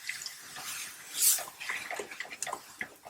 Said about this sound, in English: Add a bit of water